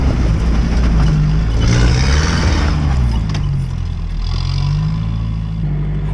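A Toyota 4x4, HJ47 Landcruiser or Hilux, revs its engine loudly up close after finishing a steep off-road hill climb, a low rumbling growl that swells and eases.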